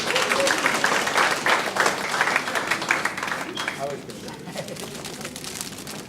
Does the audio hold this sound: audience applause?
yes